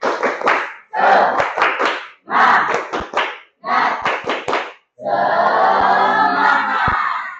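A group clapping together in rhythm, four quick bursts of sharp hand claps in a patterned beat, ending with a longer sustained round of clapping and crowd noise.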